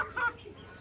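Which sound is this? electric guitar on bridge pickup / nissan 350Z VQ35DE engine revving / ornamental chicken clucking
ornamental chicken clucking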